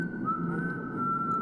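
A person whistles a single sustained, slightly wavering note for over a second, clear and close against low background murmur.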